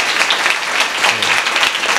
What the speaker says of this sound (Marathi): त्याच्यासाठी जोरात टाळ्या वाजवा.